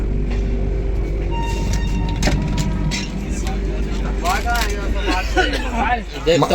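A train pulls out of a station, its steady low rumble and rolling rattle filling the carriage, with passengers chatting throughout and louder voices near the end.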